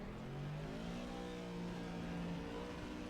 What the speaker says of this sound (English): So let's start the engine. Now when I rev it